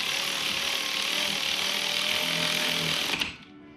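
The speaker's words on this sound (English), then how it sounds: "you're just feeding it with a power tool." A power tool whirs steadily while feeding spark plugs into a BMW E46 engine during a valve cover gasket and ignition coil job, a loud continuous mechanical buzz with ratcheting that stops abruptly near the end.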